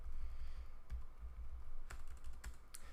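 Keys clatter on a computer keyboard during a live coding session for a game, steady close typing with a few sharper, louder keystrokes standing out, no voices.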